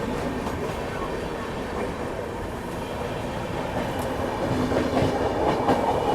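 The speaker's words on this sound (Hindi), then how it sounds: "और क्या तेज एक्सेलरेट किया है वेब 7 ने" Riding aboard an express train hauled by a WAP-7 electric locomotive as it accelerates, a steady dense rail rumble with faint clicking wheels growing slightly louder toward the end.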